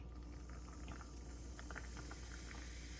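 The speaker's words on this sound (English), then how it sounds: "But then we're gonna add the tonic water." Tonic water poured into a glass over rosebuds, a steady soft fizz and bubbling hiss that runs throughout at moderate level with no talking.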